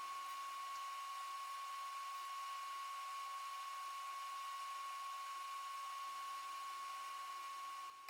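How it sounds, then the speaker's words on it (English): TIG welding a sheet metal patch for a vintage Honda XR75 motorcycle: a steady, close electric hum with a constant tone runs unbroken through the whole stretch, with a faint background hiss and no talking. "slowly I change my welder settings and start to remember how to weld again"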